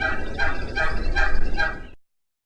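Wild turkey hens yelping to locate each other, a quick run of about four or five loud, raspy yelps in steady rhythm, close by, ending abruptly.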